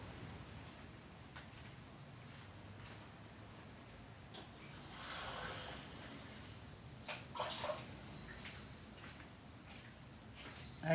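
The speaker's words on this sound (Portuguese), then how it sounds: "vai pondo só o enraizador, até transbordar" Rooting solution made with Benerva and water is poured into a container until it overflows, a faint, soft, steady trickle and slosh close by that swells briefly midway, with no talk.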